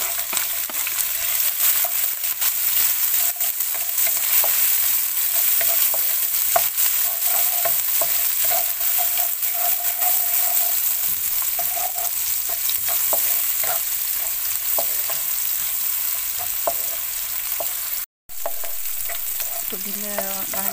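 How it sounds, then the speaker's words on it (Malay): Ingredients sauté in hot oil for a stir-fried fern dish with salted egg, a loud continuous sizzle with scattered stirring scrapes and clicks, close up and without voices, briefly cutting out near the end. "Kita tumis bahan-bahan ni semua ya."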